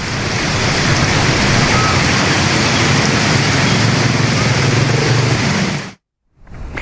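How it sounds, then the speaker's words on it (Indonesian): Heavy rain pours down in Gadok as a loud, dense, continuous hiss for about six seconds, then cuts off abruptly into near silence. "cuaca sejak sore hari di wilayah Gadok diguyur hujan deras"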